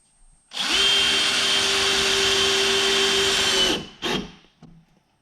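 A power drill drives a screw into a wooden door jamb with one loud, sustained whine of about three seconds, followed by a brief second burst as it seats.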